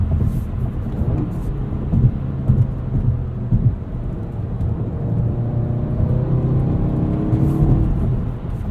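Manual-transmission 2016 Volkswagen GTI SE engine revving hard up toward 7,000 RPM, a loud sustained drone with rising tone from start to finish, close and steady with no talk.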